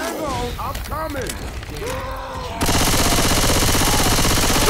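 Sustained rapid gunfire from the zombie shooter Left 4 Dead with Christmas mods, erupting loudly and continuously after a stretch of excited shouting and game effects.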